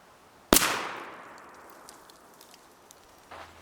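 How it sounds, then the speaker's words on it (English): A single sharp 12 gauge shotgun blast firing a Federal Grand Slam 5 shot turkey load outdoors, followed by a long decaying echo, with faint rustling and a small thud afterward. "Still using the 12 gauge, Federal Grand Slam, and this is 5 shot at 30 yards."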